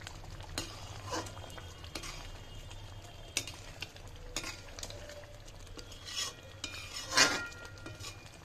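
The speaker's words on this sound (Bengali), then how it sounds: "খুব ভালো করে নাড়াচাড়া করে নেব।" A utensil stirs chicken with cashews in a cooking pan, giving soft scraping strokes and light taps at an irregular rhythm, close and quiet over a low background hiss, with a sharper clink near the end.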